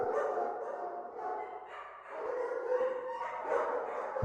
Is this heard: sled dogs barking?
yes